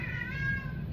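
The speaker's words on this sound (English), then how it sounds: "it's meowing" A single drawn-out cat meow, close and clear, with a steady wavering tone over faint room noise.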